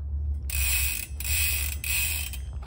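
Ratcheting 1-to-1 rear hub on a Santa Cruz 5010 mountain bike, a rapid buzzing freewheel clicking heard in three close, loud bursts with brief pauses between them.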